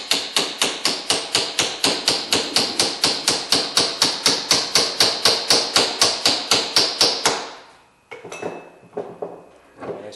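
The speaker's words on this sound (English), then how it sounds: "you just tap down on this cap and lift up on the yoke at the same time" A hammer taps a u-joint bearing cap on the axle yoke of a Ford F150-F350 front drive axle, about thirty rapid, even metallic blows ringing close, then a brief pause and a few looser clanks.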